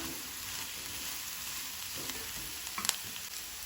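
Chopped mushrooms dropped into onions frying over medium flame for Goan mushroom masala, giving a soft, steady sizzle with a few stirring clatters near the end and no voices.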